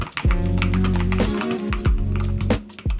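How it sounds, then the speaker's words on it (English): Keystrokes on a Keychron keyboard with magnetic switches, a quick run of light, clackety taps at close range, heard over steady low background music. "It's a Keychron keyboard with magnetic switches. It sounds very nice and clickety-clackety."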